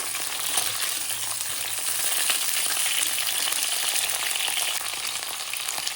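Cauliflower and potato with mixed vegetables frying in a pan give a steady, bright crackling sizzle, even and continuous at close range with no voices.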